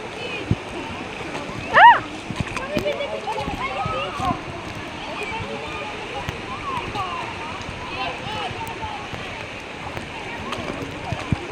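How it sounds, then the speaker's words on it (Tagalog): Strong current of a cold, clear river in Pandan, Real, Quezon rushing and splashing steadily close by, with one louder splash near the start while people talk over the flow. "Lakas po ng agos, oh."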